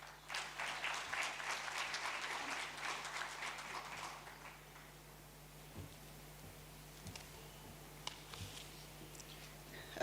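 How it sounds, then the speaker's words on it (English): Steady applause from an audience at a water and sanitation congress fills the first few seconds, then fades to a quiet room with scattered faint clicks. "Can we give him another round of applause, please?"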